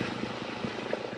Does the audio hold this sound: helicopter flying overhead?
yes